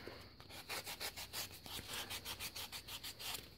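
A small brass coin being sanded by hand, a quiet rapid back-and-forth rasp in an even rhythm of about a dozen strokes, close and alone.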